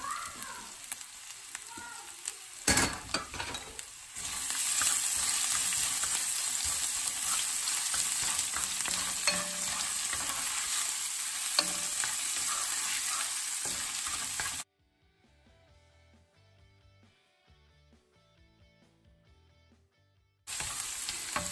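Crushed ginger and garlic sizzle in hot oil for a Kerala shrimp roast, a close steady frying crackle with stirring scrapes; the hiss drops out for several seconds before resuming.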